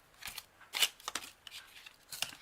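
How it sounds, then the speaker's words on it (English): Scissors snip through paper to cut out an angel for a foam cone Christmas decoration: a few crisp separate cuts at an uneven pace, close and fairly quiet, with no voices. "So I'm going to cut this off."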